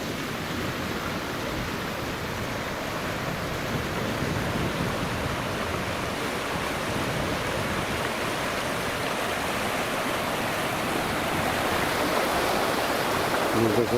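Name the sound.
flowing stream water overflowing its banks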